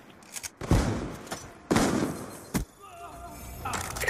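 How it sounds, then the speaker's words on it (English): Sharp Remington shotgun blasts in Black Ops 2 gameplay: two loud booming shots about a second apart, each with a short tail, then a quieter thud and lighter game effects. "give me that Remington now."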